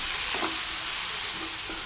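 Chopped tomatoes sauté with ginger garlic paste in a pan for an egg thokku, a steady close hiss of frying with a few soft stirring scrapes, no voices.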